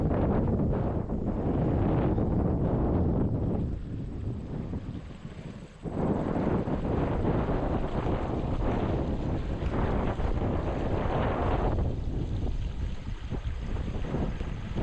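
Heavy water rushing out of a replacement culvert, a loud continuous wind-buffeted roar with broadband churning that dips briefly in the middle before surging back, with no voices over it.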